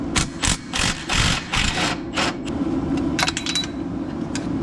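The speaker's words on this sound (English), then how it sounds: "We got power tools around here." A power tool loosens 13 mm transmission bolts on an S197 Mustang, firing in several quick, loud bursts up close, then giving way to a steadier mechanical whir.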